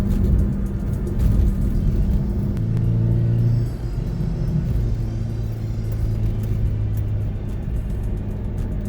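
An Acura RSX engine hums steadily while driving, a loud close rumble with a slight shift in pitch partway through and no talk over it.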